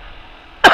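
A single short, sharp cough bursts out near the end after a quiet stretch of low background hiss.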